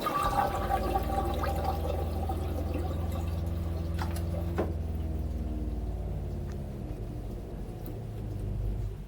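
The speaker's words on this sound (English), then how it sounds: "That noise that just stopped was the water pump that we filled the toilet with." A steady low mechanical hum of a boat's water pump filling a toilet with running water, continuing for several seconds, then cutting off partway with a faint drip afterward.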